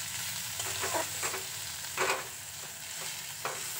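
Ground spice paste with salt and turmeric fries in oil, a soft continuous sizzle broken by several brief scraping stirs of a spatula in the pan.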